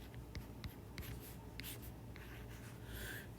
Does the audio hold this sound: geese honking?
no